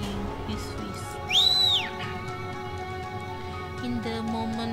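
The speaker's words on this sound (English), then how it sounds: "the other delinquent in track pants made a loud whistle" A loud whistle in the video game Tiny Bunny, a single rising-and-falling tone lasting about half a second over a steady background music bed.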